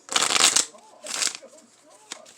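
A Lenormand card deck is given a quick shuffle in two loud, crisp riffling bursts with a pause between them, followed by a single short card tap.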